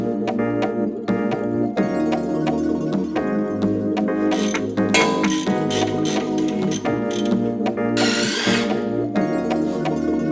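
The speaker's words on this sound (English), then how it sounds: "we are going to start to undo some of the bolts underneath the first wheel" Power tools whir and rattle in repeated bursts, with ratcheting clicks and metallic clanks as suspension bolts are worked loose under the wheel of an Audi A6 C6.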